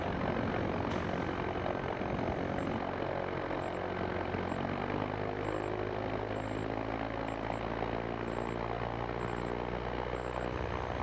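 A Zenith STOL CH 750 light propeller aircraft taxiing out, its engine droning loudly and continuously close by, with a steady tonal hum throughout and no talk.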